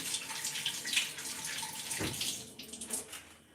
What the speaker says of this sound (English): I'm going to wash it under running water